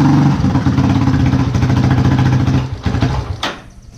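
A car engine runs after idle and fuel-mixture adjustment, a loud close hum with rhythmic pulsing that eases off near the end, broken by a brief sharp click.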